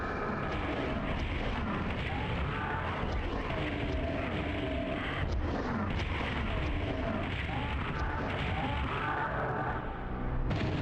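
Rocket explosions from PSX Doom's rocket launcher, fired at Hell Knights in a dark bunker level, forming a dense, continuous wall of booming blasts and rumbling noise at steady loudness with no pauses.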